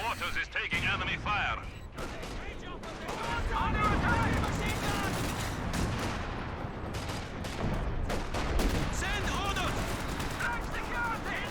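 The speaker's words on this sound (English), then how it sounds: "More howitzer fire into the base region from the Axis" Howitzer artillery fire in a Company of Heroes 2 multiplayer battle, heavy booms and explosions rolling through a busy, rumbling battlefield mix, with a voice talking over parts of it.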